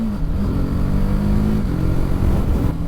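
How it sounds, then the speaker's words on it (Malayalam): A 2025 TVS Apache RTR310 motorcycle engine revs as it accelerates, pitch climbing then dropping sharply at quick quickshifter gear shifts; loud, close and continuous. "ക്വിക്ക് ഷിഫ്റ്റർ അടിപൊളിയായിട്ടാണ് വർക്ക് ചെയ്യുന്നത്."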